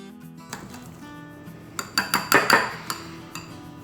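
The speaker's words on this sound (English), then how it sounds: "So I'm going to whisk this egg if I can, and then add it in." An egg whisked in a bowl for grain-free bread gives quick metallic clinks against the bowl, sparse at first, then a brisk cluster of sharp taps in the middle, close and clear with no talking.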